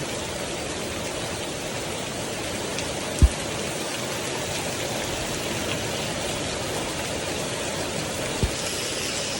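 Steady rain falls outdoors, a dense, continuous hiss of drops near the listener, with a couple of brief knocks and no talking.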